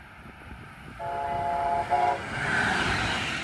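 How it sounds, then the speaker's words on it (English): A Brightline passenger train heading south through Suntree sounds its horn in a brief steady blast, followed by rising rumble and rail noise as it approaches and passes at moderate distance. "Bright Green southbound is next in Suntree."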